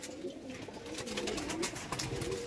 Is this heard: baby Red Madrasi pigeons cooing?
yes